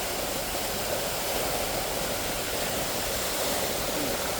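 Water from a garden fountain splashes steadily, a continuous broadband rush close by with no pauses and no voices.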